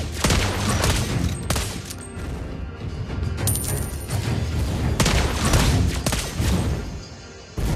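Rapid gunfire and explosive booms from the mobile battle game Mobile Legends, a dense, loud barrage that continues almost without pause, with heavy impacts and sharp bursts layered on top of one another.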